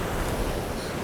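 Waves surge and wash continuously against a rocky shoreline on a winter sea, loud and close with a windy roar and no voices.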